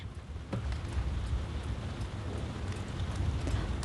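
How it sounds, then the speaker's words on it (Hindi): Heavy rain falls at night in a steady, dense hiss that holds even throughout, with no voices over it. "कितनी तेज बारिश हो रही है।"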